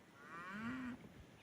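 A single low, drawn-out moo from a cow, fairly close, rising slightly and then cutting off, with faint outdoor background.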